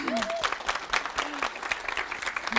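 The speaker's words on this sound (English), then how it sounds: "please give a big, round, warm applause for our next speaker, Shmuela Jacobs." A conference audience at a web development talk claps for the next speaker, the applause a bit sparse and uneven, with a few voices and tonal cheers or whistles mixed in.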